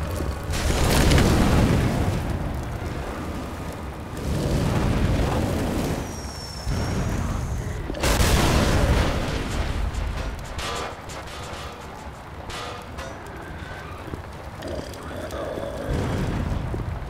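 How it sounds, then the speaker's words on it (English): A Molotov cocktail is thrown in a zombie survival video game, setting off heavy booming bursts and roaring fire amid game noise, with a pause and a second loud surge partway through. "Throwing a Molotov!"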